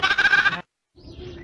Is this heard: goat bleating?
yes